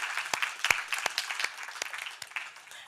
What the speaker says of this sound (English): a quick clap of hands